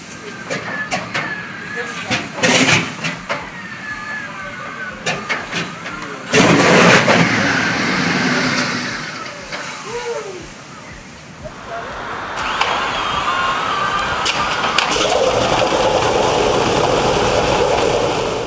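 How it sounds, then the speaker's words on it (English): A Pratt & Whitney R-4360 piston aircraft engine, a huge radial, running loud and close with a rough, throbbing roar that shifts and surges throughout, dense and continuous. "The R4360, the final boss of piston engines, really."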